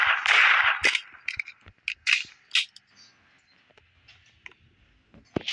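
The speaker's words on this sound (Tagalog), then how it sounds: "Naririnig mo yung putok?" Gunshots ring out in the Roblox game Brookhaven, several sharp cracking pops in an irregular series, some louder bursts and some fainter, with no talking over them.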